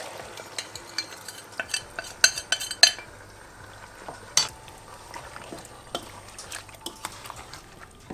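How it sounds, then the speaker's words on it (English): A spoon stirs a pasty Mauritian chicken curry mixture in a pot, scraping and clacking in irregular close taps over a faint background sizzle. "So I'm going to mix this."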